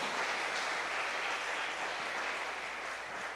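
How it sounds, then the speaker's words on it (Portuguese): A church congregation applauding, a steady wash of many hands clapping at once, moderately distant and even in level for a few seconds with no voices over it. "Dê um forte aplauso a Jesus, amém?"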